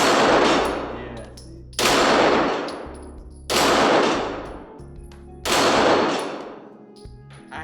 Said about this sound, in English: So let's do some more shooting.